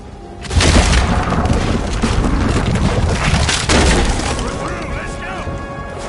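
Two deep cannon booms with cracking blasts ring out a few seconds apart, loud and close, each trailing into a rumbling echo, from the video game Red Dead Redemption 2.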